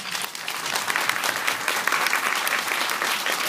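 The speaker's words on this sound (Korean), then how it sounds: "좋은 영화 이렇게 가져와서 소개해 주시고 좋은 말씀 드려주신 감독님과 배우분들께 큰 박수 한번 부탁드립니다" An audience at a short film festival screening gives a round of applause for the directors and actors, a full, loud, sustained crowd clapping that holds steady throughout.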